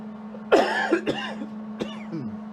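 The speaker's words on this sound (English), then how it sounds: "excuse my coughing." A person coughs and clears their throat while working on welding a 1927 Ford Model T coupe in a workshop, with one harsh burst followed by two shorter coughs over a steady low hum.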